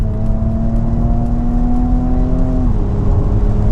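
Porsche Cayenne SUV engine pulling hard under acceleration, a loud, steady, rising hum from inside the cabin that drops in pitch at a gear change near the end, with no talk.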